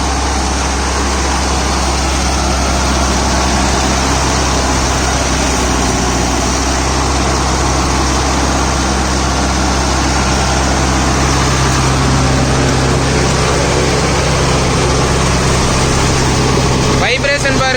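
A Mahindra Novo 605 DI CRDI 4WD tractor engine runs steadily while powering a banana mulcher through the PTO in creeper second gear, a loud continuous drone with heavy low rumble and broadband mechanical noise throughout.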